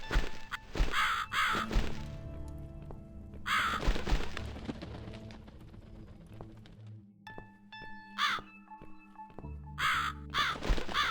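Harsh crow caws from the video game The Cat Lady come in several separate bursts of repeated calls, loud and close, over a quiet, tonal musical background.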